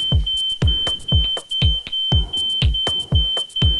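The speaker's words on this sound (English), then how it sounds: "You can also wave a towel near the smoke detector to clear the air and make it stop beeping." A smoke detector sounding a false alarm, a loud, piercing high-pitched tone repeating in rapid evenly spaced beeps, with sharp electronic chirps layered in between, alone with no talk.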